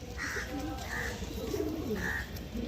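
Madras pigeons in a loft coo in low repeated throaty calls, several overlapping at close range against a steady background murmur.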